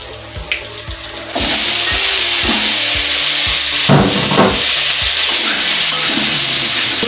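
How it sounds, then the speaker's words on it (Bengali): Onions and potatoes hit hot oil in a pan and burst into a loud, steady sizzle after a few quiet knocks and taps, frying continuously and close by. "তেলটা গরম হোক, পেঁয়াজটা দিয়ে দিচ্ছি। এবার আমি আলুগুলো দিয়ে দিচ্ছি।"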